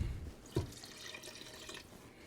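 Water runs from a kitchen tap to top up a pot of seafood stock for a crab and corn bisque, a soft steady stream with a small splash near the start.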